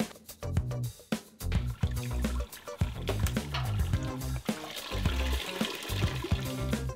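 Wort from a brew-in-a-bag grain bag pressed in a homemade bag squisher, during a Cascade pale ale brew, pours and trickles in bursts of splashing, close up, with no talk.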